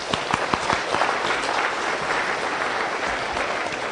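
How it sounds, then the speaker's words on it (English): A seminar audience applauds, dense clapping that opens with a few sharp individual claps and then settles into a steady, even patter. "Give yourself a round of applause."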